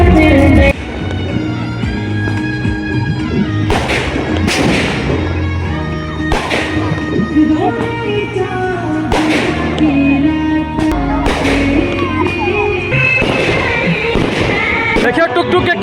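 Firecrackers go off at a Chhath Puja dawn gathering in Bihar, where children hold sparklers. Sharp bangs and cracks repeat at irregular intervals over a constant loud festive din of music and crowd, with a voice talking throughout.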